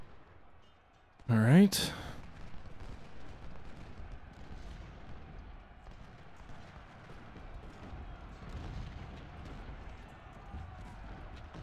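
A Napoleon cannon battery fires canister shot in a Civil War strategy game, one sharp loud boom followed by a low rumbling battlefield din, with a voice speaking briefly.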